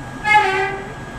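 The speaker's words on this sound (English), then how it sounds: "That two-tone horn is very nice." A New York City subway train horn sounds once, a short, bright, harmonic blast that swells and fades within about a second over low station rumble.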